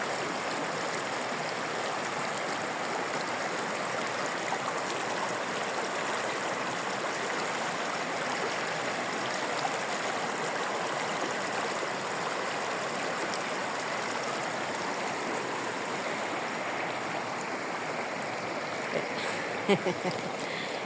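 Steady rushing water pours continuously from a mountain waterfall in Suldtal near Aeschiried, Switzerland, a dense even roar with no pauses throughout.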